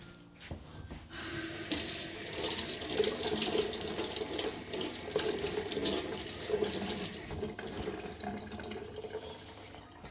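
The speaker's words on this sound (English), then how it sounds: "Okay, let's wash the green onions first." Tap water runs steadily into a kitchen sink while green onions are washed, a continuous close splashing stream for about ten seconds with no speech.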